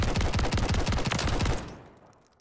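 A Haymaker shotgun fitted with a Binary conversion in the video game MW3, firing a rapid continuous burst of loud, punchy shots up close for about a second and a half before the fire stops and the sound fades.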